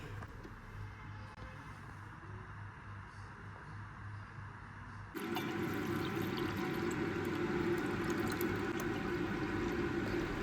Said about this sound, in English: I added the water, set it, and just let the cooker do its job.